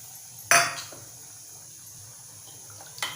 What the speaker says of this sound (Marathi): त्यामध्ये आपण थोडंसं पाणी टाकून ते भांडं आपल्याला धुवून घ्यायचं आहे